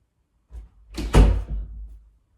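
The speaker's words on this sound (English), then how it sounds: "you hear a door close, as clear as day" A single door swings shut with a solid thud, a brief creak leading into the close, then quiet.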